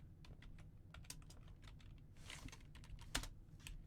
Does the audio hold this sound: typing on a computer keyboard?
yes